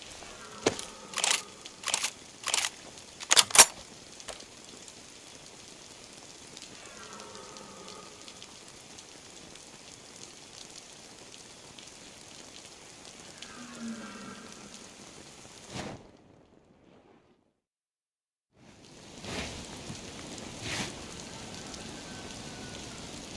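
Steady rain in the video game DayZ patters on surfaces, with a few sharp knocks near the start and a short silent gap before the rain resumes.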